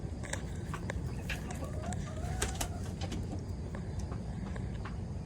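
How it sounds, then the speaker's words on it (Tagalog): Brahma chickens and roosters on a farm, soft clucks and pecking mingled with a pigeon-like coo and faint bird calls, close but quiet over a steady low background rumble. "Ito po yung mga roaster din natin."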